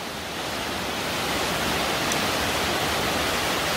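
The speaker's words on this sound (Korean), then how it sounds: "여기에 이렇게 폭포가 있어요." A waterfall roars inside Hwanseongul cave, a dense, steady rush of falling water that fills the space without pause and swells slightly louder as the clip goes on, with no voices over it.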